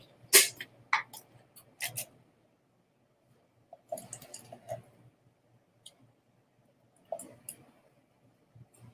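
A cocktail shaker holding lime juice and ice rattles in short bursts, sharp clicks and clatters coming in uneven clusters separated by brief pauses.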